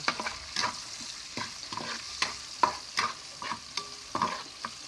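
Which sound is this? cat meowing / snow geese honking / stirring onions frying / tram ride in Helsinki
stirring onions frying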